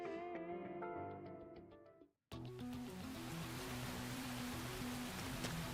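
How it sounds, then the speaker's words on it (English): Steady rain in the video game Xenoblade Chronicles X Definitive Edition begins abruptly after a brief silence, a dense wash of hiss layered with the game's music. "Oh, it's raining"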